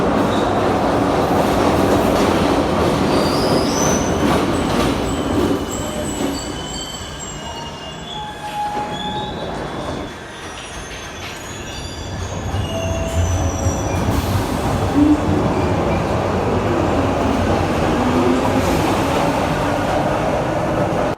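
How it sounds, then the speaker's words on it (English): A Glasgow Subway train rumbles loudly along the tracks, wheels squealing and screeching over a constant roar, with clattering rhythm as the carriage sways. "we're going to hop on the Glasgow subway now"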